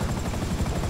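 A helicopter in the video game GTA 5 Online gives off a loud, continuous rotor chop, dense low thudding with a throbbing pulse that holds throughout, no voices over it.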